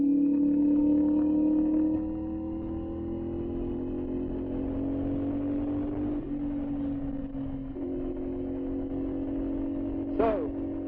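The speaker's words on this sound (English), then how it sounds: "That exhaust just sounds so amazing." A 2025 CfMoto 450 SS motorcycle exhaust idles and revs with a deep, throaty rumble, louder at first, then holding steady, with a brief sharper rev near the end.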